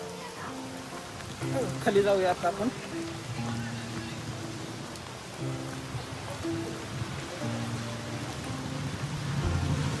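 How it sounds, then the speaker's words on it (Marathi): Steady rain pattering at Khadakwasla Dam near Pune, a continuous soft hiss of drops on surfaces beneath someone talking close by, with rustling and handling noise. "पाऊस एवढा चालू आहे आता."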